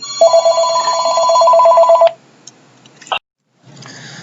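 An electronic telephone rings once in a steady, buzzing tone for about two seconds, then cuts off. A few faint clicks and handling noises follow in a quiet room.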